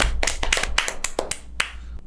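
A few sharp hand claps land in an irregular burst of about eight or nine over two seconds, close and fairly loud against a low background hum, with no talking.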